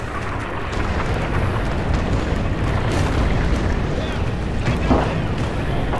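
Artillery barrage in the World War 2 shooter Rising Storm/Red Orchestra 2, a continuous roar of rumbling explosions and blasts with distant booms layered under a broad wash of battle noise.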